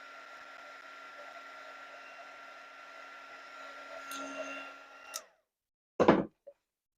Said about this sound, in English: Isn't heat embossing like the coolest magic ever?